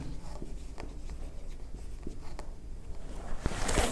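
Pen scratching on paper while writing out a bad debt entry in a Class 11 final accounts lesson, soft, close strokes in short irregular bursts with a few sharper taps.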